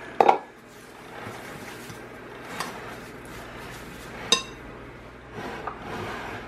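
A spoon stirs whole oats into a vegan dessert-bar batter in a bowl, giving soft scraping with a few distinct clinks against the bowl, close and fairly quiet.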